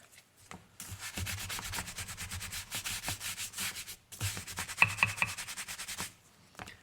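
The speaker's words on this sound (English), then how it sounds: "we just got a good scrubbing, little circular motion, little back and forth motion" Scrubbing an axe handle with saddle soap, giving steady close rubbing strokes in quick circular and back-and-forth rhythm, pausing briefly midway, with no talk.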